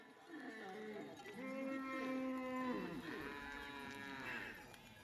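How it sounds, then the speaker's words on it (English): Ethiopian cattle coming into the corral at dusk moo in long, drawn-out calls, several overlapping lowing voices close by over quiet rural ambience. "At dusk, the cattle come in."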